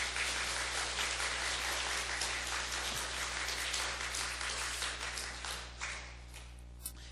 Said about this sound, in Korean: 박수 한번 드리도록 하겠습니다.